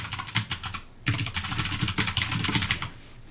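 Fast, steady typing on a computer keyboard while entering image alt text, a dense run of close, crisp key clicks with a short pause near the start, no talking.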